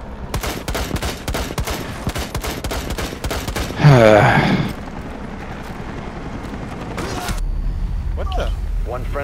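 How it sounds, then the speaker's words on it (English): Gunfire in the Rainbow Six Siege video game: rapid close bursts of shots in the first seconds, then a loud blast-like burst, followed by quieter game ambience and a short final burst. "I was shooting at that guy."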